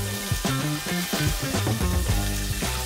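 Carrot, onion and cherry tomatoes sizzle in a small pot, a steady close-up hiss of frying with bubbling crackle throughout and faint knocks of stirring, no talk.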